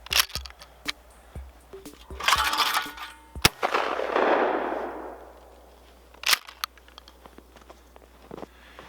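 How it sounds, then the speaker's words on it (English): A Mossberg 500 shotgun fires outdoors in snow, with a sharp, loud blast followed by a lingering rumble and a second crack later, amid light rustling and handling noises. "I sure ain't tearing them up with the shotgun."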